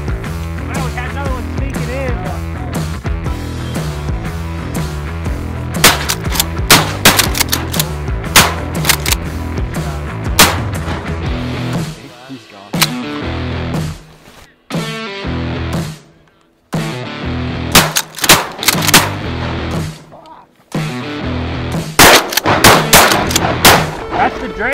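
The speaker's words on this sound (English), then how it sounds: "Good shot, Bane." Shotguns fire during a winter duck hunt in Idaho: loud, sharp blasts in rapid volleys and scattered single shots, some close together, with brief quiet gaps between bursts.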